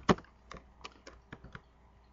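Keys clatter on a computer keyboard as a SQL query is entered into an Oracle database session, about half a dozen distinct clicks in an uneven rhythm, close and fairly quiet, with one sharper stroke at the start.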